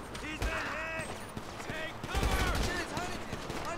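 Rapid bursts of gunfire from enemy guards during a casino heist in GTA 5 Online, dense and continuous, with clusters of shots mixed with game effects and bits of voice throughout.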